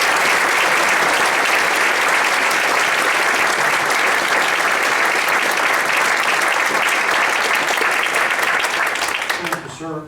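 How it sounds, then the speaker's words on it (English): Sustained round of applause from a large audience at a space heritage ceremony, steady dense clapping filling the whole stretch before tapering off at the very end. "let's have a round of applause"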